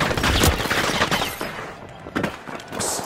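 Gunfire rattles through a chaotic arena match in the video game The Finals, a dense, continuous mix of shots and impacts at moderate loudness with a few sharper bursts.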